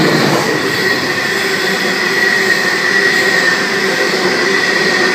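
Class 82 freight locomotives hauling a freight train past at close range in Sydney, a loud, steady rumble with a constant high metallic squeal and grinding wheel noise throughout.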